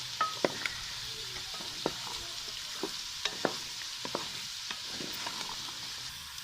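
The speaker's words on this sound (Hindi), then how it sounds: "बहुत ही अच्छा फ्राई हो गया चना" Chickpeas frying and being stirred in a pan for a village-style chana achar, giving a steady soft sizzle broken by repeated sharp scrapes and clicks of a spoon against the pan, close and fairly quiet, with no voices.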